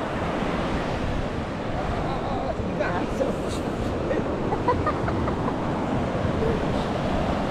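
Large ocean waves surging and washing ashore in a steady, loud roar with wind noise on the microphone, while someone talks over it.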